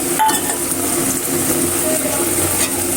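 Mixed greens with crushed garlic stirred in a pan without oil, a steady soft sizzle with scraping utensil strokes against the pan, close and continuous.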